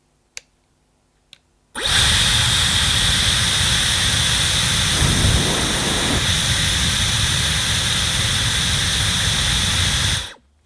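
A Dyson Airwrap hair styler running at speed 3 blows a loud, steady whooshing hiss with a high whine for about nine seconds, after two small clicks, then shuts off.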